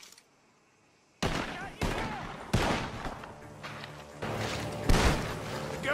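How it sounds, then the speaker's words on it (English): Gunfire erupts from a barn in the video game Red Dead Redemption 2: a quiet start, then loud, repeated shots in quick irregular bursts over a rumbling, noisy backdrop. "Gunshots are coming from that barn!"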